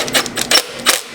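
Exhaust gasket screws fitted with locking washers are snugged down on a muffler, making a few short metallic ratcheting bursts close up with brief pauses between them.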